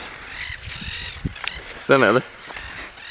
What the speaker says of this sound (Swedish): Fan vad de där fåglarna där borta låter.